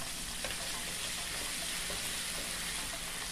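Ingredients for ackee and saltfish saute in a pan, giving a steady, even sizzle of hot oil throughout with faint small pops, no voices.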